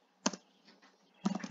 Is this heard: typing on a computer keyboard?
yes